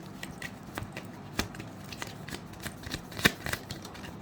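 Tarot cards being shuffled close by: a steady run of soft papery riffles and flicks with a few sharper snaps, quiet and with no voice over it.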